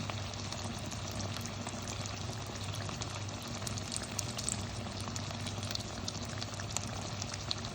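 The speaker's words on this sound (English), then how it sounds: "It's cut just into 4 pieces and then deep fried." Quartered brinjal, cut lengthwise with the stalk left on, deep frying in oil: a dense, steady bubbling sizzle that carries on unbroken and fairly loud throughout, with no talk.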